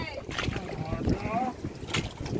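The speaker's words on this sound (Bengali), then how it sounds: "কান্ট্রি বোটে আমরা যাচ্ছি।" A country boat moves across open water on a breezy afternoon, with soft water wash and wind buffeting the microphone under nearby voices.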